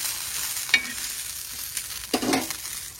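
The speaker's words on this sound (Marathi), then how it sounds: "तर आपल्या मिरच्या मस्त भुजालेल्या आहे बघा" Green chillies roasting in a pan, a quiet background sizzle broken by two brief scraping stirs, heard close with no talking.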